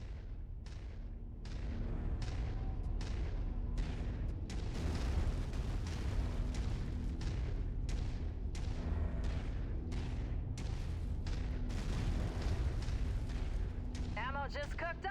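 Ammunition cooking off in a mech during a MechWarrior 5 battle, a dense run of loud booming bursts and crackling blasts layered over continuous rumbling combat noise, with a short high whine near the end.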